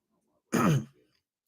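A single harsh throat-clearing cough bursts out close by, a brief rough exhalation followed by a faint trailing breath, then a tiny click.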